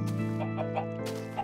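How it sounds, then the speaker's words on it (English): Chickens on a video game farm cluck in a steady stream of short repeated calls over a constant droning background tone. "I have that chicken farm over here"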